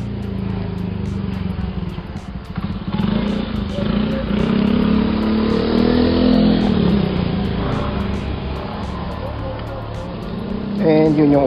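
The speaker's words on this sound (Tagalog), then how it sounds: "Yan, may tricycle pa." Traffic on a Philippine roadside with a motorized tricycle passing, a steady loud engine drone rising and swelling as it goes by, with people talking faintly underneath.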